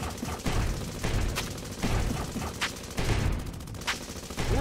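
Video game gunfire in an arcade-style fish battle game, with repeated bursts of rapid shots and sharp impacts coming in quick clusters throughout, fairly quiet overall and with no talking.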